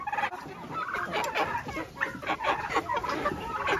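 Hens cluck and cackle in a busy, uneven stream of short calls, fairly close, with general coop noise behind them and no talking.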